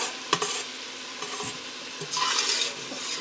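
Minced garlic sizzles in a pot for broccoli cheddar soup while a utensil stirs it, a steady close frying hiss with a few scraping knocks and a louder burst of sizzle near the end.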